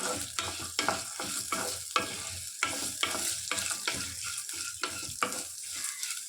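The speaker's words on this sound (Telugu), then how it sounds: "అల్లం కొంచెం ఒక్క ఐదు నిమిషాలు ఇవన్నీ సిమ్లో పెట్టి బ్రౌన్ కలర్ వచ్చే వరకు వేయించుకోవాలి" Ginger and garlic fry in a pan for mango pickle, with a steady sizzle and repeated sharp scrapes of a stirring spoon against the pan, close and alone.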